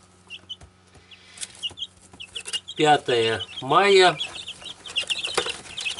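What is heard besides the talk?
chicks peeping and clucking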